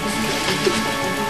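Rain falls steadily during a storm, a dense even hiss of drops on surfaces, loud and close, with no voices.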